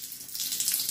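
Water streams from a tap onto a makeup beauty blender sponge to swell it, a steady close hiss of running water lasting under a second.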